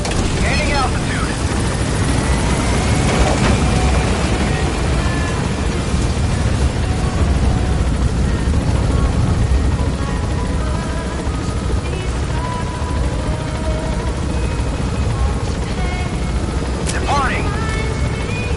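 A helicopter lifting off and gaining altitude in Metal Gear Solid V, a continuous loud rotor drone and engine rumble throughout, with brief radio-style voice chatter and game effects over it.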